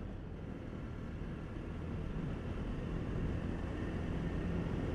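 A 2023 Jawa 42 2.1 motorcycle cruises at constant speed in fifth gear, a steady low engine drone blended with heavy wind rush, continuous and close, no talking.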